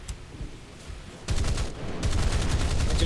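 Naval guns firing in a video game, a rapid run of close, loud booming shots that builds into sustained heavy gunfire after a quieter opening.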